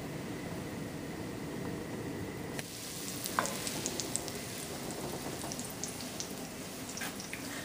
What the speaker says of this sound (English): I'm going to drop it in my hot pan and let it melt.